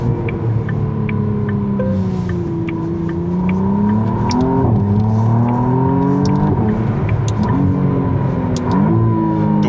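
A McLaren Artura Spider engine revs high, its loud droning note rising and falling through repeated sweeps of acceleration, heard up close from inside the car with no talking.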